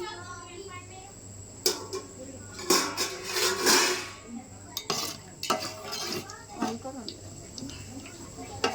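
Pulao spices fry in ghee and oil in a pot while a metal spoon stirs and scrapes, giving irregular clanks and scrapes over a soft sizzle, with someone talking throughout.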